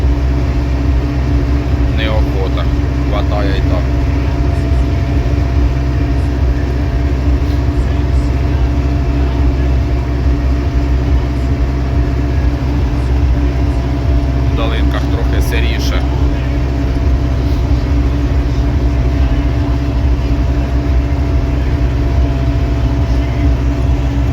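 MTZ tractor engine droning steadily at close range while sowing soy in a field, a constant loud hum under the cab, with a few faint rattles and brief bursts of talk.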